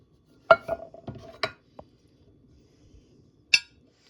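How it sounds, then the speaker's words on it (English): Canned green beans tipped out of a can into a pan, giving a few sharp clinks and clatters of metal, then a wet slide and one final knock, close and fairly quiet with no talking. "I'm just going to empty these into a pan"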